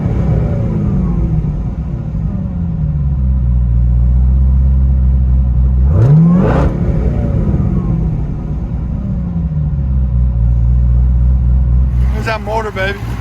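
800hp Hennessey-tuned Chevy Corvette ZR-1 with a 6.2L supercharged V8 and true dual exhaust, heard from inside the cabin: a deep, steady rumble swells into one sharp rev midway, then a few quick throttle blips at the end.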